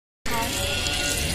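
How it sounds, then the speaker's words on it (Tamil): A cow moos at home while banana bonda fry in hot oil, a sudden loud, drawn-out call that starts abruptly after a moment of silence and holds for the rest of the clip. "எங்கள் மாடு ஒரு பக்கம் கத்துறது"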